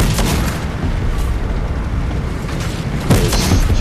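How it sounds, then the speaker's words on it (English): Gunfire from players shooting in Fortnite, a sharp burst of shots from behind over a dense, noisy game mix, with a louder hit near the end. "Someone's shooting at me from behind."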